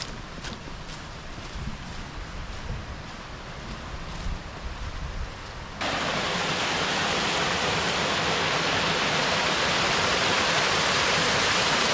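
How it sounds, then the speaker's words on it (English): Roaring creek water rushing near the stone ruins of an old bottling plant at Colonial Springs in Valley Forge. It is a steady, broadband rush that swells sharply louder halfway through as it comes close, with no voices. "you can hear the roaring of the creek."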